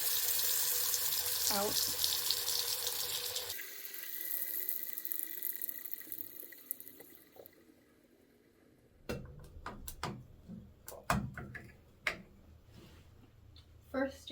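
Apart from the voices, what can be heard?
water running from a bathtub faucet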